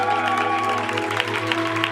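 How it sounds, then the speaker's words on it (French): A church congregation applauds during a Sunday service, with steady clapping mixed with sustained tonal music or organ-like drones throughout. "Ajoutez encore quelques acclamations pour mes frères et sœurs"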